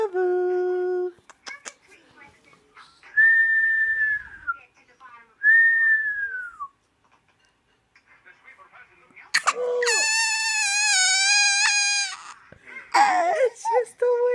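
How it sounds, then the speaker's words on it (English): A whistle is blown in several sharp tones, some long and sliding, alternating with a baby crying loudly and an adult voice speaking soothingly nearby. "It's just a whistle."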